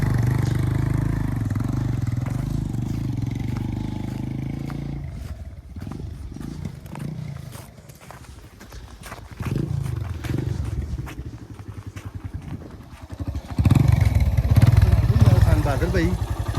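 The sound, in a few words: motorcycle on a mountain road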